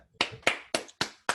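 Five sharp, evenly spaced claps, close and clear, each ringing out briefly in a quiet room before the next.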